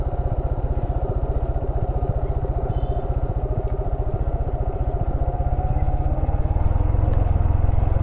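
Motorbikes descend a steep hill road with sharp turns; a steady, loud engine runs with rapid regular firing pulses throughout, swelling slightly toward the end, no voices.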